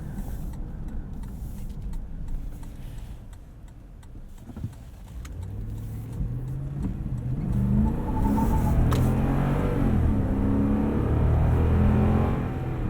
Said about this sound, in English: Spinning some wheels there. This has some power.